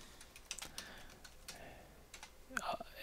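Quick taps on a computer keyboard as Cisco router configuration commands are entered, irregular clicks near and fairly quiet, with a brief denser burst of keystrokes toward the end.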